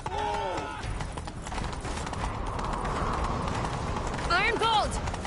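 Rapid hoofbeats of a galloping horse in The Witcher 3 video game pound steadily under an outdoor rush of noise, with brief speaking voices at the start and end.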